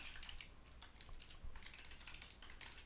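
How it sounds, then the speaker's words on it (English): Someone types on a mobile device, producing a quick run of faint, light taps in an irregular rhythm, close by and quiet, with no talking. "here's the typing that I'm doing"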